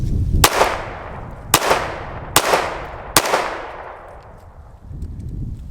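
A Springfield Hellcat RDP pistol fires four sharp, loud shots about a second apart, each with a short echoing tail, with no talk over them.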